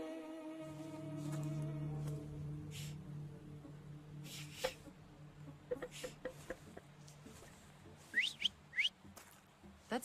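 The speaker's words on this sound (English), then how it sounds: "So, have you mastered whistling?" Whistling in The Thaumaturge PC game: soft tonal notes over a quiet ambient bed, followed by a run of short clicks and a couple of quick, bright rising chirps near the end.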